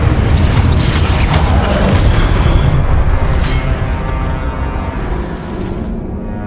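Hogwarts Legacy's Incendio fire spell going off in a fight in hard-difficulty play, as a dense, continuous rumbling whoosh of flame with booming bursts that stays loud and close throughout and eases off slightly toward the end.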